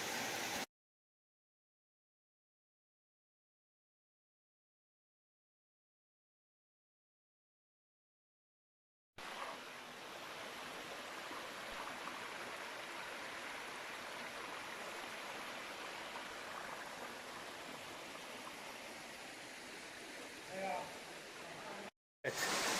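Etler Waterfall near Serik in Antalya, Turkey: after a long silent gap, a steady, loud rush of flowing water fills the rest of the clip without a break.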